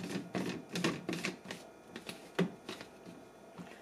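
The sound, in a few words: blade screwed onto a Nutribullet RX cup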